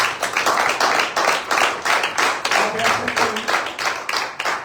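A crowd claps loudly and steadily in repeated bursts at a church worship service, hands striking in an uneven, energetic rhythm with faint voices mixed in.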